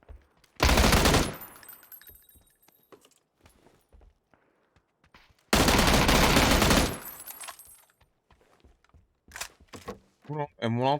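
Long bursts of automatic rifle fire in the battle royale game PUBG, two loud sustained volleys separated by quieter gaps with scattered single shots and clicks, no speech over the firing.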